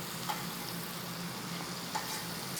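A tablespoon of oil with butter sizzles gently in a pan on low heat for a steak frites meal, a soft, steady hiss with a couple of small pops and no talking.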